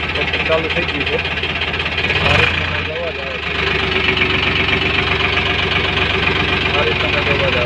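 Close, loud diesel idle of an Eicher 557 tractor engine with a rough, knocking rhythm that briefly dips and then continues steadily.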